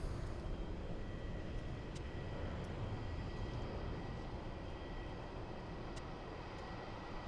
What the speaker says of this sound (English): sounds from the departing 777